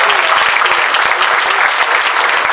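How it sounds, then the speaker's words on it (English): Audience at the 2018 NAACP Freedom Fund Gala applauds loudly and steadily, many hands clapping densely throughout with no pause. "Now y'all can clap."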